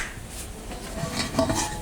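A pot is set down inside a container in a home kitchen, giving a short burst of metallic clinks and light clatter up close, quiet and over in under two seconds.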